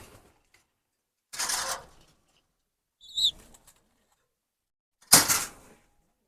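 Racing pigeon chicks give a brief squeaky call between short bursts of flutter and rustle, close by with quiet gaps between, and no talking.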